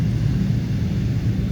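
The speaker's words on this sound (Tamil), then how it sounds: "டேக் ஆஃப் அதோட ஒரிஜினல் சவுண்டில் என்ஜாய் பண்ணுங்கள்." Steady, loud low rumble of an Emirates Boeing 777-300 jet rolling on the runway at Dubai for takeoff, a continuous broadband roar with no talk.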